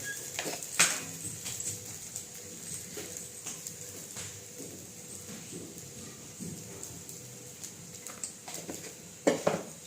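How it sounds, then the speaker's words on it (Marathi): Sabudana (tapioca pearls) stirred and roasted in a pan on low heat: soft scraping and tapping of a spoon against the pan, with sharper clinks near the start and end, fairly quiet throughout. "थोडा गॅस कमी करायचा आणि मस्त मंद आचेवरती आपला साबुदाणा परतून घ्यायचा"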